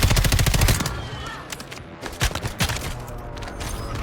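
Rapid automatic gunfire rattles in the Warzone video game, a dense burst of shots followed by scattered single cracks over a busy, loud background with no speech.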